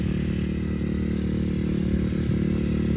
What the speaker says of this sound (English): This guy is definitely racing this like adventure touring bike.